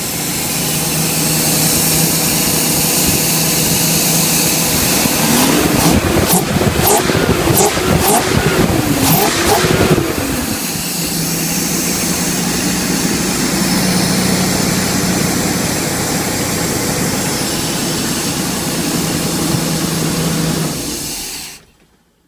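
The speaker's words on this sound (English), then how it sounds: "You hear it turn on, fires right up" A fuel-injected engine in a 1975 Travco motorhome fires up and settles into a steady, loud idle, with a rougher burst of revving early on before evening out.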